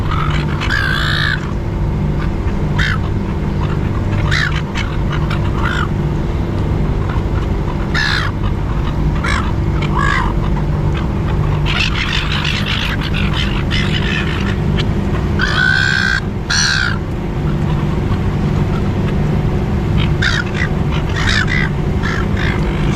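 Crowd of seagulls at the Sydney Fish Market squawking and calling repeatedly, loud and close, over a steady roar of waterfront background noise.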